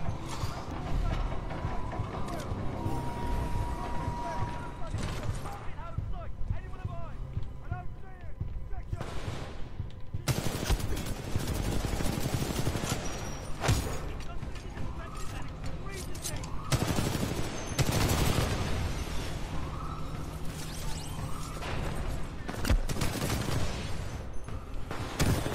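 Sustained gunfire from a weapon in the shooter game Titanfall 2 crackles in rapid bursts over dense in-game noise and mechanical clatter, loud and close throughout.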